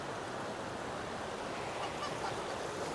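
Geese and a few ducks honking in a large flock at an outdoor spot in Spain, a steady dense chorus of calls mixed with a broad wash of background noise and no clear talk.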